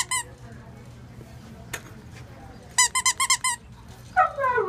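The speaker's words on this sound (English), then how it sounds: "Oh, listen to the husky crying." A husky at a city animal shelter lets out a burst of rapid, high-pitched crying whimpers and squeaks, close and loud, with a few fainter whines before and after and some background noise.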